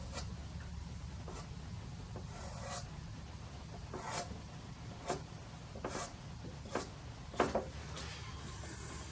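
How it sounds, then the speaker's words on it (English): A Conte pastel rubbing and scraping across paper while sharp edges are cleaned up, heard as a series of short dry strokes over steady low background hum. "taking a Conte pastel and just giving those sharp edges a bit of a"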